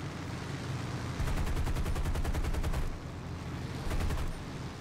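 Machine gun fire in the War Thunder video game during a Pearl Harbor dogfight mission: two loud rapid bursts of automatic fire, the first about a second and a half long, the second shorter, over a steady engine drone.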